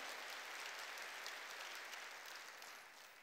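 Congregation at a Sunday church worship service applauding in praise, a steady, dense wash of clapping throughout that fades slightly toward the end, heard at some distance and fairly soft.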